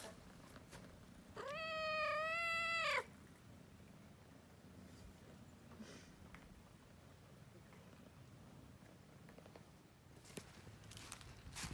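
A pregnant female cat gives a single drawn-out, wavering meow lasting over a second, fairly close, then the scene falls to quiet room ambience with faint shuffling.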